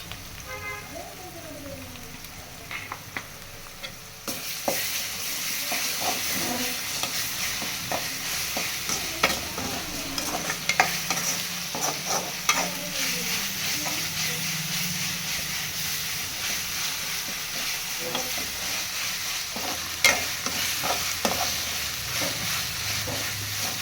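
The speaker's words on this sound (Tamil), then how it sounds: "இஞ்சி பூண்டு பேஸ்ட் நல்லா வாசம் வர வரைக்கும்" Ginger garlic paste being stir-fried with softened onions for a crab gravy, giving a steady sizzle and hiss with repeated spatula scrapes and knocks against the pan that grow louder after a quieter start.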